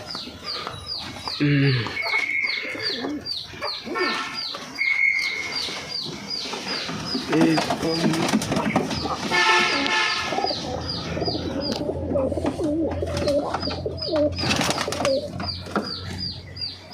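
Birds cluck and coo repeatedly, some calls close and busy, while people talk intermittently nearby.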